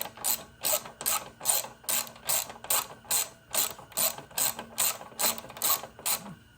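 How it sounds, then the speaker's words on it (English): A hand ratchet drives a screw into a motorcycle gas tank mount, its clicking bursts repeating in an even rhythm about twice a second, close and alone. "we're just gonna go ahead and go all the way through it with a ratchet"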